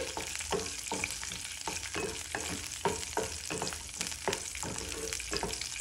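Dry fruits and raisins fry in hot ghee with a constant busy sizzle, broken by regular scraping stirs of a spoon in the pan, close and alone without voices.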